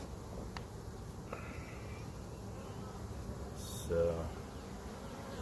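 A steady hum of honey bees buzzes around a nuc hive in a shaded backyard bee yard in the evening, faint and continuous throughout, with a brief handling sound and a single spoken word.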